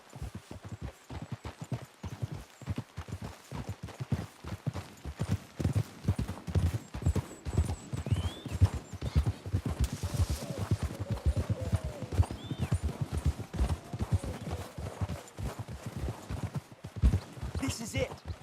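Horse hooves clip-clop steadily on the ground in the Red Dead Redemption video game, a rapid rhythmic patter close by, with talking voices and an occasional whinny mixed in.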